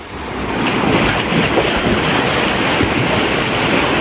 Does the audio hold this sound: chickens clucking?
no